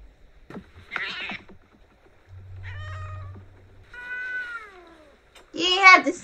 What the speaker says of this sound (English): You ain't have to sit down to pick up the damn cat.